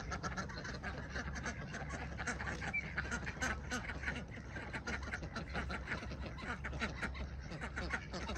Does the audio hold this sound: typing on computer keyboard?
no